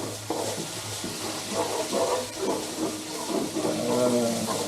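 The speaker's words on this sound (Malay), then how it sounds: "Kita tumis cili kita dulu." Chili sautéing in a pan gives a constant, moderately loud frying hiss with soft bubbling crackle, close and continuous, with a voice faintly speaking underneath.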